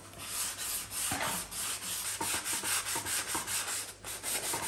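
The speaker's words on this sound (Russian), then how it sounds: "Протираю ее до светлого дерева." Sandpaper of 240 grit rubs over the wood of a ship model in quick, rhythmic back-and-forth strokes, a close, continuous rasping scrape with no voices.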